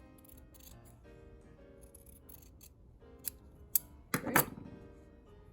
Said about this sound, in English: I'm going to cut across there at a 1/4 inch away from my seam line.